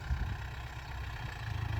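Hired tractor engine plowing a sandy, grassy rice field, a steady low rumbling drone with slight throbbing fluctuations and no pauses.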